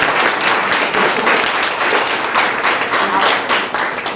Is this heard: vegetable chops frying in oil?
no